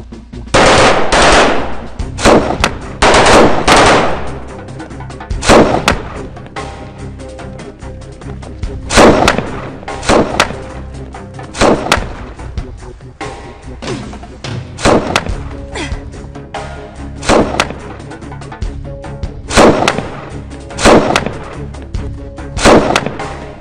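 Loud bursts of rapid gunfire and heavy blasts ring out again and again through a war-film battle scene where a sniper targets an enemy, each volley separated by short pauses, with no talk over them.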